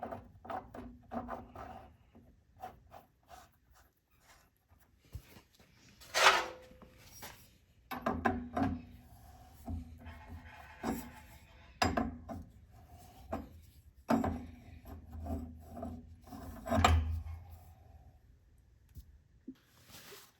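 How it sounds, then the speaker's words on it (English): A threaded gas fitting is worked onto a gas water heater, intermittent metallic scrapes, clicks and ratcheting turns with rattling handling knocks in bursts, close up, separated by quiet pauses and no speech. "Now we're going to install the little gas fitting."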